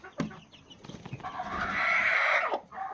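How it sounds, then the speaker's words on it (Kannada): Native country hen with about fourteen chicks, clucking near the microphone, with a sustained bright call swelling in the middle and a few short sounds before and after. "ಈಗ ಒಂದು ಹದಿನಾಲ್ಕು ಮರಿಗಳಿದ್ದಾವೆ"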